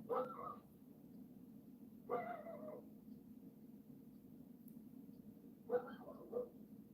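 A dog barking at night around New Year, heard as three short, faint bursts a couple of seconds apart, somewhat distant, with only quiet room hum between them and no talk.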